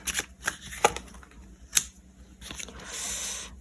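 Tarot cards shuffled by hand in a few quick riffling bursts, soft and close, ending in a longer papery rustle.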